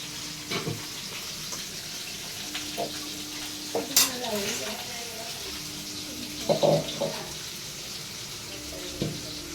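Fish frying in a pan in a home kitchen, a steady broadband sizzle running throughout with intermittent clinks of utensils, a brief water splash and scattered voices in the background.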